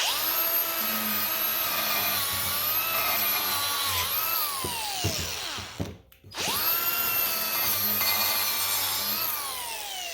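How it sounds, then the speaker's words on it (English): A steady, loud high-pitched whine of a power wire wheel grinding rust off a metal trailer edge, briefly dropping out near the middle before starting up again. "try to get that wire wheel on this inside edge there and take off some of that rust"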